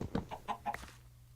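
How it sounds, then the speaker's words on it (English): Chickens in the video game Minecraft cluck in a quick series of five or six short bursts, then go quiet, fairly faint and close with no talking over them. "I'm gonna let my chickens out so that you can see them in action"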